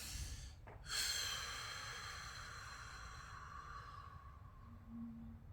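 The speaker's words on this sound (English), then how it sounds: "take deep breaths" A person taking a deep, slow breath while lying on a Pso-rite tool for a psoas muscle release, a sharp inhale followed by a long, fading airy exhale, close and quiet with no talking.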